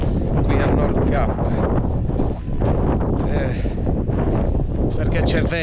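Cold, icy wind gusting across the open headland at Nordkapp in northern Norway, a loud continuous roar buffeting the microphone throughout, with a person talking underneath.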